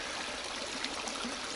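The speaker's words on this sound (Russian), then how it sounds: "Вот эти речушки, которые текут" Small forest stream flowing after heavy rains, a steady close trickle and wash with no voices.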